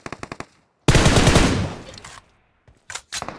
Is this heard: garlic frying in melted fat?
no